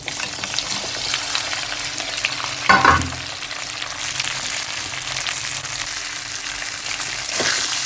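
A spiced rice dhokla mixture with white sesame seeds and pav bhaji masala sizzles loudly as it is sautéed in a pan, a dense continuous frying hiss with one brief stirring clatter partway through, close and without speech.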